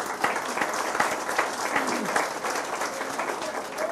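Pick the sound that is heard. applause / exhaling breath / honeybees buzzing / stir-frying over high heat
applause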